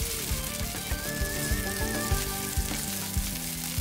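Chopped green chillies frying in a teaspoon of hot oil in a pan, a steady close sizzle with soft crackles and a faint tonal hum in the background, no talking.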